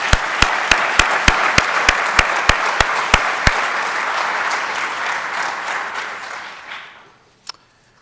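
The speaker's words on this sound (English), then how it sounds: "Let's give them another round of applause for their efforts." An audience at a Saint Johnsbury Academy event applauds loudly, with a run of sharp, evenly spaced claps riding over the crowd noise before it all tapers off to near silence, then one last stray clap.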